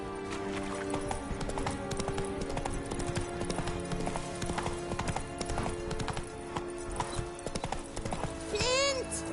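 Roach, Geralt's horse in The Witcher 3, gallops in a fast, rhythmic clatter of hooves that runs throughout. Near the end a whinny rises briefly over game music and ambience, and a voice comes in at one point.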